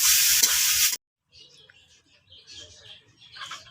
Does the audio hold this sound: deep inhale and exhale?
no